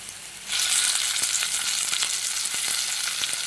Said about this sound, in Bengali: এখন দিয়ে দিচ্ছি আমি, এটা রান্না করব আজকে কচুর ফুল।